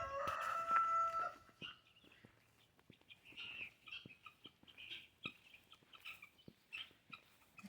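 Chickens and a rooster around a yard where guinea fowl are kept, with a loud crow at the start followed by scattered, moderately close clucks and squawks in the open air.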